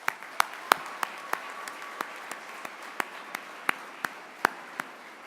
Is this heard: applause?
yes